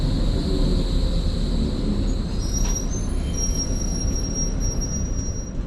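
A Berlin S-Bahn commuter train hums and rumbles loudly at a platform, with thin high-pitched wheel squeals and whines over a constant low drone.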